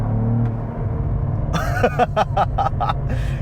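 A 2022 Cadillac CT4-V Blackwing's engine and exhaust rev over a steady low idle rumble, with a run of quick, sharp blips and pops in close succession, loud and near.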